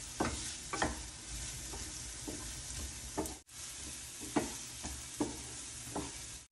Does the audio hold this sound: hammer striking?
no